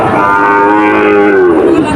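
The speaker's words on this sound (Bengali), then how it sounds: "এই বকনা গরুটা কার?" A cow at a livestock market in Jessore district gives a long, loud, close moo with a falling pitch at the end, filling the whole moment with no talk over it.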